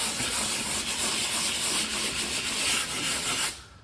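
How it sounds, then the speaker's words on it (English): Close, steady scratchy rubbing of sandpaper across drywall around a hole for a few seconds, then it stops abruptly. "we're just going to be sanding around the hole to make sure we get a good adhesion with the patch"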